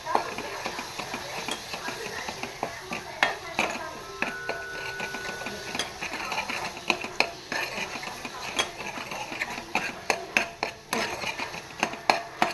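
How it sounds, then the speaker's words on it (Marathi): Ground masala paste fries in oil in a pan, with continuous sizzling under frequent clinks and scrapes of a spoon against the metal as it is stirred. "छान असं तेल सुटेपर्यंत मी हे वाटप परतवून घेणार"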